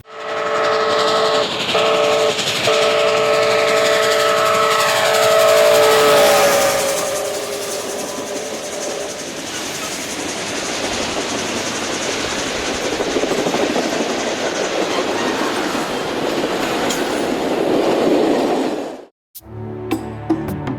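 A Golden Eagle Luxury Trains special runs on the Canadian Pacific Railway through the Rockies, its loud, steady rumble and rolling clatter close by, with a horn sounding early on, before the noise cuts off abruptly near the end.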